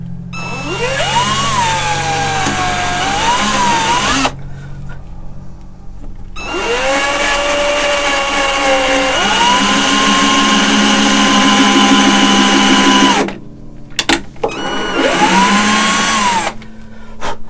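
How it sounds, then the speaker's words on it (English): A power drill in a workshop runs in long whining bursts as it bores a hole at an angle, its pitch dipping under load, then stops, and a final burst runs in reverse as the bit is backed out. "I do like to reverse the drill when I pull it back out as well."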